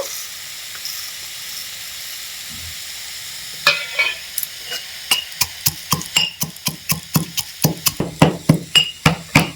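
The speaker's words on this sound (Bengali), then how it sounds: "এরপর কিন্তু এই গোটা মশলাগুলো হিমুল দিস্তার মধ্যে গুঁড়ো করে নেব" Whole fried spices are pounded in a metal mortar and pestle. After a few quiet seconds and a couple of isolated knocks, sharp rhythmic strikes begin and grow steadier and louder, about two per second, close up.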